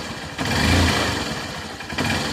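A Honda CB 125 E motorcycle engine runs close by while its carburetor air screw is being adjusted, a rough, pulsing idle that swells briefly in the middle and again near the end.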